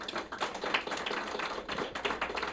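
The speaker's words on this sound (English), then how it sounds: "can y'all give yourselves a round of applause?" A small audience at a family support group meeting claps in a quick, uneven patter of individual hand claps, fairly close and moderately quiet, with no voices over it.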